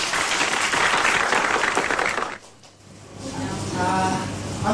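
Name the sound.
audience applause for a Korean singer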